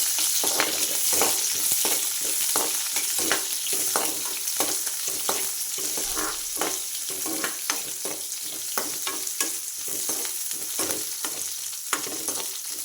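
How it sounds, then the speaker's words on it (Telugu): Sliced onions sizzle steadily in hot oil with curry leaves in a pan, while a spoon scrapes and stirs in quick, uneven strokes, close and continuous, with no talking. "ఇప్పుడైతే ఆనియన్స్ వేసుకుంటున్నాను ఆనియన్స్ వేసుకొని బాగా కలిగించుకోవాలి"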